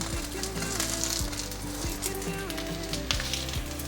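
Vegan nori-wrapped 'fish' of seaweed and yam pan-frying in oil, a steady close sizzle with soft crackles throughout and no voices.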